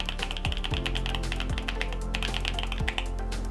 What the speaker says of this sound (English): It's got a really cool sound to it.